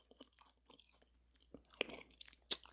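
Quiet, close crunches and chewing from biting into a taco of taco meat and pinto beans with lettuce, tomato and queso cotija, with two sharper crisp snaps near the end.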